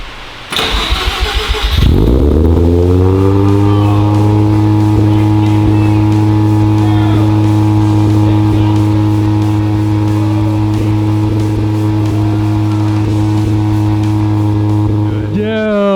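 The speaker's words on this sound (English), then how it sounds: "The rotary sound. That idle is literally perfect." A Mazda FC RX-7 rotary engine with a new header cranks and fires up, then settles into a loud, steady, deep rotary idle with a smooth buzzing exhaust drone that holds for many seconds.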